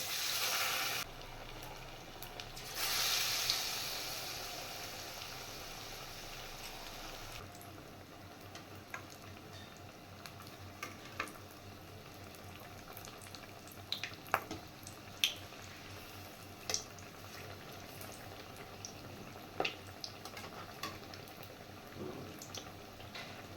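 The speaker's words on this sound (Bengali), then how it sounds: "এদিকে তেল বসিয়ে দিয়েছি, তেল গরম হয়ে গেছে, আর আমি এবার মাখনার এগুলো এভাবে বানিয়ে এবার বেসনে ডুবিয়ে ভেজে নেব" Makhana (fox nuts) coated in gram-flour batter frying in hot oil: a faint, steady sizzle with a brief louder hiss near the start, then scattered soft pops and crackles.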